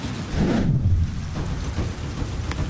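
Heavy rain pours down hard, with a deep rumble of thunder rolling through early on, dense and loud throughout with no voices.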